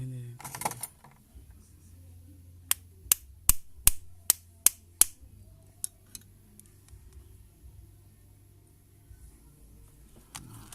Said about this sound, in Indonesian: Atau kita bisa menggunakan palu juga bisa.